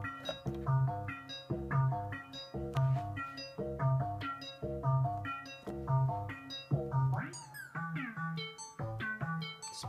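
A Buchla 200e modular synthesizer with its 291e module controlled by slew CV plays repeating pulsing tones and melodic steps, with some gliding pitch sweeps near the end, close and alone.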